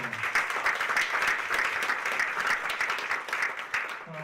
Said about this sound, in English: And so how about a round of applause for David Armstrong?